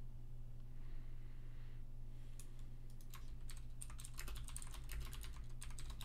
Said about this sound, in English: I was typing to my opponent